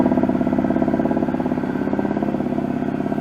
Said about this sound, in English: Throttle sounds perfect.